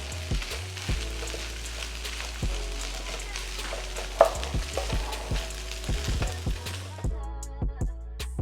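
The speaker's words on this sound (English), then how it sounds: "now you just fold your eggs in on an off stove" Eggs are folded into hot fried rice with bean sprouts in a pan on a turned-off stove, giving a steady residual sizzle with scraping stirs of a utensil, close and moderately loud.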